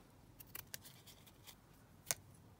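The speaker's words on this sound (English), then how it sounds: "snip that off" Scissors snip lace trimming on a papercraft umbrella clip project in a quiet crafting setting, with several small, crisp cuts spaced irregularly and one sharper snip near the end, all close and fairly faint.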